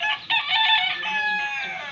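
Chickens clucking with a rooster's drawn-out crow, close and loud, steady over the whole stretch.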